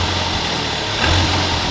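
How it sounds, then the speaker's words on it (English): A Toyota Celica GT-Four engine with a transmission fluid fault revs up and drops back down, a loud, close, uneven engine note rising briefly before settling. "what's it doing, revving and coming back down?"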